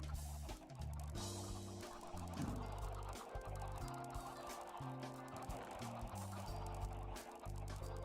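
In a game of Minecraft, chickens cluck in a steady, busy stream over layered game music and ambient sound, fairly faint overall, with no talking.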